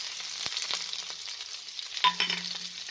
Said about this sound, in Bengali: এখন দিচ্ছি একটু পেঁয়াজ কুচি